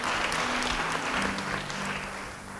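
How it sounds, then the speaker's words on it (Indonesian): A church congregation applauds at a sermon, a dense, steady wash of clapping that holds at an even level and eases off slightly toward the end. "Yang setuju beri tepuk tangan buat Tuhan"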